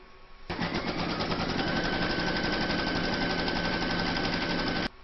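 Embroidery machine stitching a placement outline for batting on a Celtic topper, a loud, steady rapid needle rattle starting abruptly after half a second and running continuously for about four seconds before stopping.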